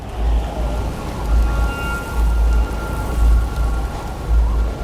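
Steady heavy rain pours in The Last of Us Part II while low thunder rumbles roll repeatedly underneath, loud and close, with no voices.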